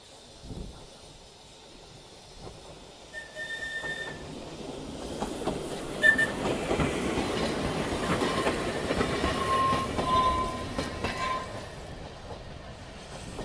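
A tram rumbles past nearby with a steady clatter of wheels on rails and a couple of brief high squeals, no voices.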